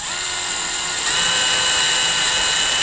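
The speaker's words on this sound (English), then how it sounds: "drill the holes where the rivets are gonna go" A power drill bores rivet holes through a plastic body part on a C8 Corvette Stingray, a loud, steady high whine running continuously throughout, rising slightly in pitch partway through as it cuts.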